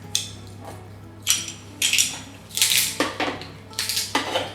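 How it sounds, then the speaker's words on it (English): A garlic crusher pressing unpeeled garlic cloves gives a series of sharp metallic clacks and crunchy squeezes, irregular bursts one after another, close up and alone with no talking. "Don't have to peel the garlic in this garlic crusher, it's great"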